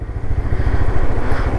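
A Honda XRE motorcycle engine runs steadily close by, a low, throbbing pulse with a brisk, even rhythm and a rough mechanical texture that holds for the whole moment without any voices.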